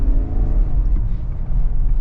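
Engine of a 2025 Chevy Suburban LT accelerating, a loud low rumble with rising whir heard from inside the big SUV, steady throughout and without talk.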